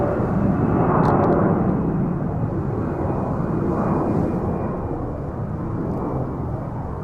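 An airliner taking off from a runway at Ottawa airport, a loud continuous engine roar and broadband rumble heard from a distance, holding steady and fading slightly over several seconds.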